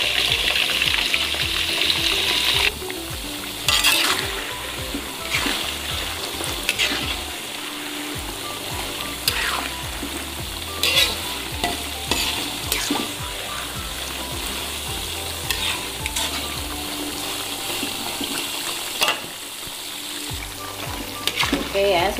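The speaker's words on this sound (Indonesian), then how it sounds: "Terus kita goreng sebentar." Shredded skipjack tuna frying in a pan, briefly cooked until slightly dry: continuous close sizzling with repeated scraping stir strokes from a spatula, fairly loud throughout, no speech.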